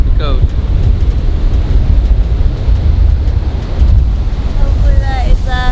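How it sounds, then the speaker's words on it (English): Strong wind buffets the microphone on a coast near Cozumel, a loud, steady, rumbling roar that runs the whole time with a few faint higher tones near the end. "We're on a coast to Cozumel and it's windy out here."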